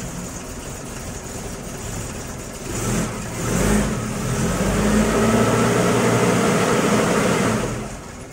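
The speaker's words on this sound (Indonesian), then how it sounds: "suara mesinnya masih dingin itu ya, agak berepet gitu" A Suzuki Katana motorcycle engine runs cold and sputters nearby. It idles unevenly with a rough popping beat, then revs and swells louder through the middle and eases back down, with no talk over it.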